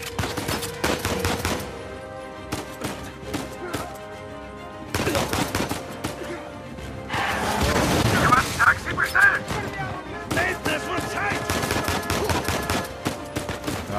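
Bursts of rapid video game gunfire in Uncharted 4 crack in clusters, loud and close, with short pauses between volleys and a heavier barrage near the middle.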